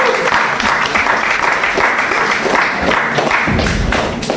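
Audience applause for the moderator at a trade show, a loud, continuous patter of many hands with a few heavier thumps near the end.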